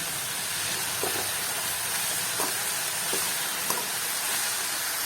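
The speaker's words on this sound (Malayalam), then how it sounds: "ചട്ടിയിലിട്ട് നന്നായിട്ട് ഇളക്കി കൊടുക്കണം കേട്ടോ" Chopped yam leaves with onion and green chili are stirred in a hot pan, a steady close hiss of steam running throughout with a few soft scraping stirs, and no talking.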